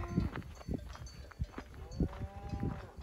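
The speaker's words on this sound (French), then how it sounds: "toutes les vaches qui montent" Cattle moving uphill on a mountain trail in the Écrins massif, with several moos rising at intervals over shuffling movement and a faint cowbell clank, fairly close and with no talk.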